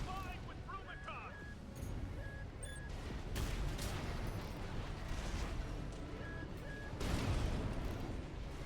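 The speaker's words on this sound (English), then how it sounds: "There's heavy fire coming from up top." In the video game Armored Core VI, sustained heavy gunfire and booming explosions rumble throughout, with bursts swelling louder midway and near the end, and brief electronic beeps in between.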